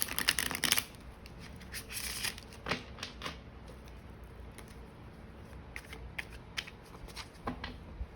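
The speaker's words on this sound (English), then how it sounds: "we've already pre-shuffled the cards quite a bit, so I don't want to spend too much time doing that" Tarot cards being shuffled up close, a loud burst of riffling at the start and then lighter, scattered card flicks and taps alone, with no talking.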